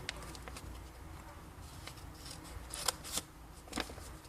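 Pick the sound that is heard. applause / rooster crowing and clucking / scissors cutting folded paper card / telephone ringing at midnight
scissors cutting folded paper card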